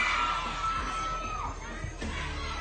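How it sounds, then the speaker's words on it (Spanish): Audience at a live event cheering and shouting, a dense continuous crowd roar with whoops, loud and close throughout. "Fuerte el aplauso."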